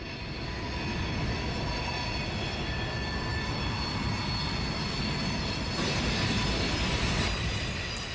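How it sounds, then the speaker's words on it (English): An eastbound Union Pacific freight train climbing Cajon Pass on the Palmdale cutoff produces a continuous, broad rumble of engines and rolling stock. The sound stays steady and fairly loud throughout, with no voices. "The Union Pacific train heads eastbound on the Palmdale cutoff just above the Cajon sub."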